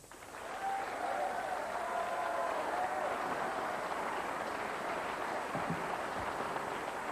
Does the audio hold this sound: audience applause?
yes